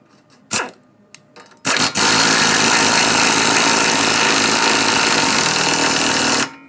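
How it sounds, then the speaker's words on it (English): Axle being pulled into the wheel hub during a wheel bearing replacement on a 2012 Toyota RAV4: a few sharp clanks, then a loud, steady mechanical whirring and rattling that runs for about five seconds and stops abruptly. "now we'll pull the axle in"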